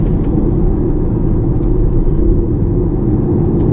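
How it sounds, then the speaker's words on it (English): A 2020 Audi Q3 Sportback driving in comfort mode, a steady, loud low rumble of engine and road noise heard from inside the cabin, with no talking. "I'm driving the car in comfort mode"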